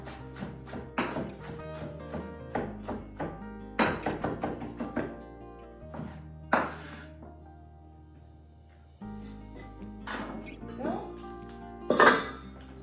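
A knife chops escarole on a cutting board in a home kitchen, with bursts of quick, close rhythmic chops that pause and resume, mixed with clinks of dishes and utensils, under occasional talk.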